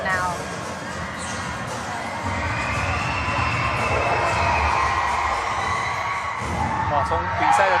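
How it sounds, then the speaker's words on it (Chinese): Crowd cheering and shouting at a city cheerleading championship, a loud, sustained roar of voices and whoops that swells toward the end, with high excited yells riding over the din. "获得了满堂喝彩"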